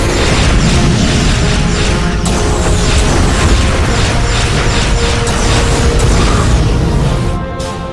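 Starship weapons firing in a sci-fi battle roar as a loud, dense barrage of booms, blasts and mechanical clatter, continuous throughout and easing slightly at the very end, with no voices.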